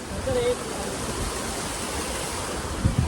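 Kuntala waterfall's water pouring down, a broad steady rushing roar that fills the whole clip, close and loud, with a faint voice and a brief knock near the end.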